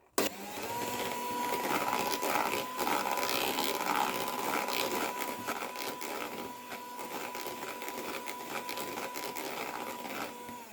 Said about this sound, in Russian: Взбиваю еще секунд 30.